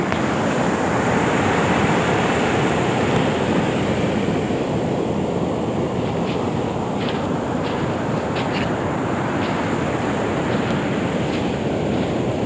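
A calm sea washes against the shore in a steady, unbroken broadband roar, mixed with wind buffeting the microphone and no voices.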